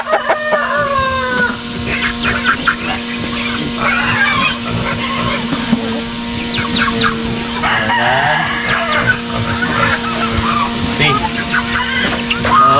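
Chickens on a small farm that also keeps turkeys and piglets cluck busily and loudly, with a rooster crowing. The birds are near and continuous over a steady background hum.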